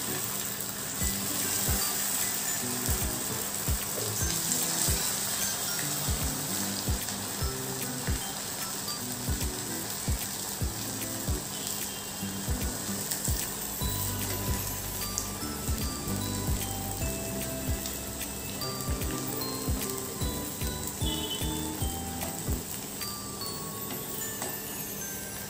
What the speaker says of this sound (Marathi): अजून वडे तळून घेऊया अशाच पद्धतीने।